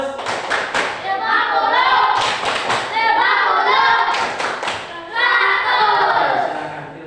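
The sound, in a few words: group clapping, tepuk 100 clap chant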